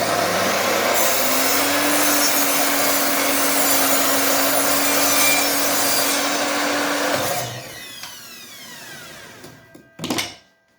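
A mitre saw cuts kitchen cornice: a loud steady whine runs for about seven seconds, then spins down and fades, ending with a short clunk.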